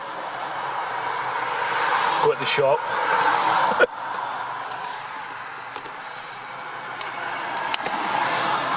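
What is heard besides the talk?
traffic on a dual carriageway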